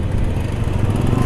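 A loud motorcycle engine runs close by during a street motovlog in Makassar, a continuous rough, throbbing drone with no break, heard alone without talk.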